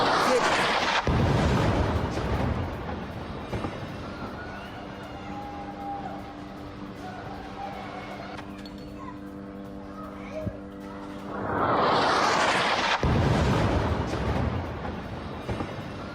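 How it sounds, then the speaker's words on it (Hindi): Israeli bombardment strikes central Gaza, hitting a residential building in Deir al-Balah; heavy, roaring blasts burst loudly at the start and again near the end, with quieter rumbling and voices in between. "सेंट्रल गाजा में इजराइल की भीषण बमबारी को लेकर एक बड़ी खबर है"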